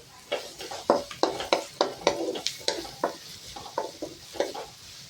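Vegetables being sautéed in a pan for wheat noodles: a quick run of rhythmic scraping stirs, about a dozen sharp strokes at a brisk, steady pace over a soft sizzle, close and clear.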